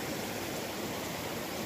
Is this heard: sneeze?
no